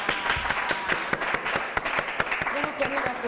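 An audience applauds at a live stage show in French, a dense spread of claps running continuously throughout with a voice speaking over it.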